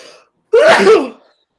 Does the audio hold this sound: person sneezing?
yes